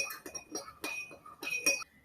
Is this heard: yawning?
no